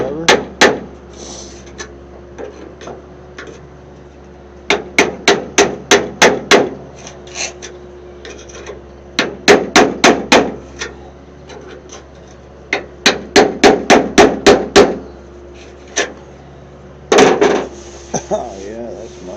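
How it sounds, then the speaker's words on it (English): Sharp metallic hammering on a screwdriver to raise the hood lip of a 1968 AMC AMX during restoration, coming in repeated fast bursts of close, loud taps separated by short pauses. "Maybe I can pound it up a little with a screwdriver."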